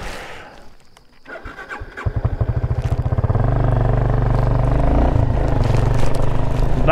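A motorcycle engine starts and revs up, then settles into a loud, steady running drone close by on a rough road in Khotang, Nepal.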